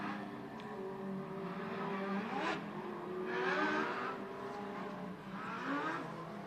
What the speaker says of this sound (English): So we got the Stars Mod Lite Series coming to the racetrack now for their first of 3 heat races.